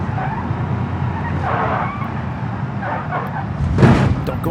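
In the BeamNG.drive driving simulator, a car runs on the edge of control and slides toward leaving the road. The engine drones steadily while tires scrub and skid, ending in a louder surge near the close.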